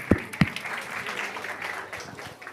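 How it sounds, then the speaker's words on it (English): An audience applauds at an International Women's Day event, a couple of sharp louder claps up front followed by scattered, fading clapping from a modest crowd. "Let's have a round of applause."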